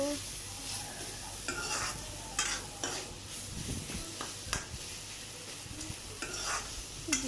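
Dry fish chutney with tomatoes frying in a pan gives a continuous sizzle, punctuated by repeated scraping stirs of a spoon against the pan, close and steady, with no voices.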